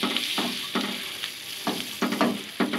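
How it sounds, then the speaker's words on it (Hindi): Vegetable bread toast fries in a pan under a constant soft sizzle, broken by several sharp scraping strokes of a spatula at uneven intervals, close by and with no talking. "दूसरी साइड से भी हम 2 मिनट के लिए इस वेजिटेबल टोस्ट को फ्राई कर लेंगे"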